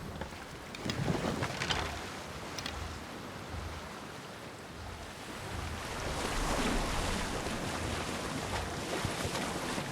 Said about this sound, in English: I'd be a fool to take this boat into deeper water.